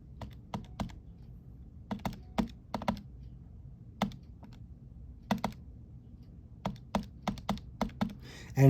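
Calculator keys tapped in a quick, uneven run of sharp clicks, some clustered in fast bursts and others spaced apart, close and clear with no voice over them.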